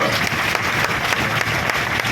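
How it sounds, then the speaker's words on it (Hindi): A crowd applauding steadily and loudly throughout at a political speech, a dense wash of many hands clapping with no pauses. "उन सब भाइयों के लिए एक बार जोरदार ताली बजा दी जाए"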